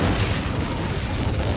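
Incendio fire spell blast from Hogwarts Legacy, a loud, broad roaring whoosh of flame that stays steady and heavy through the short burst.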